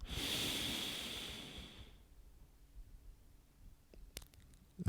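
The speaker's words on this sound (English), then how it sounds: "Take another deep breath in through the nose." A long, steady nasal inhale during a yoga session, a soft airy breath swelling for about two seconds and then fading into near silence, with a few faint clicks near the end.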